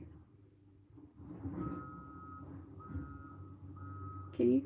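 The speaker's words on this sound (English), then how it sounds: "Can you guys hear that beeping?" A truck's reversing alarm beeps in a slow, regular series of long tones, fairly faint, over low engine rumble.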